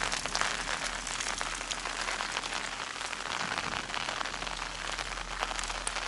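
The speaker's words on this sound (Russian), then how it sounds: "Дождь по-прежнему идет." Steady rain falls around an abandoned village, a dense, even patter on surfaces lasting throughout with no voices.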